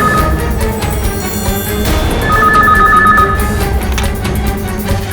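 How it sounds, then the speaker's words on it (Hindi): An indoor telephone rings loudly and insistently in repeated electronic bursts over a dense background of dramatic music. "इस वक्त कौन फोन कर रहा है?"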